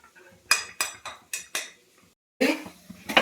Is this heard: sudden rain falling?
no